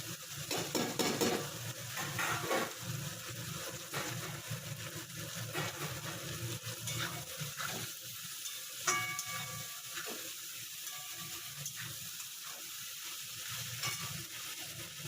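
Fish fried in a pan with other ingredients gives a faint, continuous sizzle, broken by occasional scrapes and knocks of a utensil stirring against the pan.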